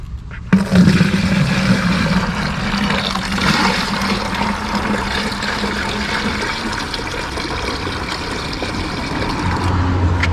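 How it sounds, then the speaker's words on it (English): A liquid solution from gravity-separating ash from computer chips pours from one bucket into another in a continuous splashing gush that starts abruptly and runs steadily to the end, with no talking. "I pour this solution into this other bucket, and I don't pour it all the way out, I only go about halfway."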